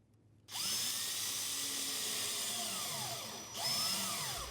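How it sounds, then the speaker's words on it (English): A power drill driving drywall screws through fender washers to fasten a bathtub flange to wall studs, a steady loud whine with pitch sweeping as each screw seats, a brief dip, then a second run. "Use drywall screws and fender washers to attach the tub to the studs as shown."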